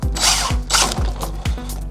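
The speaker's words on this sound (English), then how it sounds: "Now I gotta gently drill out 40-year-old plastic" Power drill boring into 40-year-old plastic of an 80s Lasonic boombox, the motor whirring in short repeated pulses with a ratcheting, grinding texture, close up.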